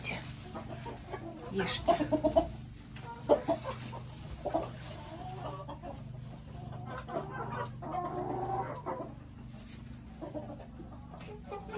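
Laying hens at a summer house clucking softly and steadily while being fed buns, close by, with someone talking over them.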